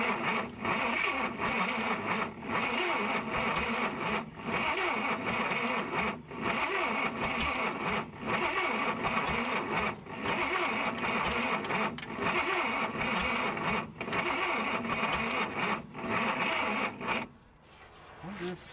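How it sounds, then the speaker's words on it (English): Buick Nailhead engine with low compression turning over on a dragging starter, a steady loud rhythmic cranking churn that continues without catching, then stops near the end, with voices talking over it. "The starter's got a lot of drag."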